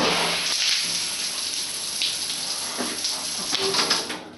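Hotel shower running in Mandalay, Myanmar, a steady close hiss of spraying water with small splashes throughout.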